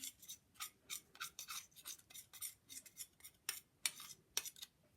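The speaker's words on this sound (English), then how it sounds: "just get a knife and just clean the flour off of here" A knife scrapes flour from the edges of a mixing bowl while making a steamed treacle suet pudding, a series of quiet, close, rasping strokes in irregular bursts with brief gaps between.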